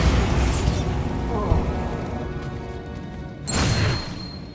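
A Bombarda blast spell goes off in Hogwarts Legacy combat, a loud bright burst near the end standing out above a constant rumble of game effects, with a voice speaking over the action.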